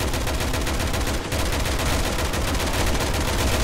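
Dense, continuous gunfire from Resident Evil 6, with rapid shots merging into a loud, unbroken barrage that barely dips for a moment.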